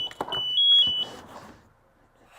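An SCBA low-air alarm sounds as the air bottle bleeds down: a quick series of four or five high, piercing electronic beeps, close and clear, then fading into near silence.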